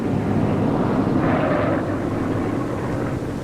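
Steady, rumbling engine drone from World War 2 military airplanes returning and landing, a continuous broad roar with no gaps.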